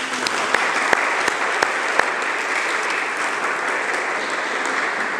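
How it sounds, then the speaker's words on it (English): Sustained audience applause at a university community event in Doral, dense and steady throughout with a few sharper individual claps standing out near the start, no talking over it. "let me give you a round of applause"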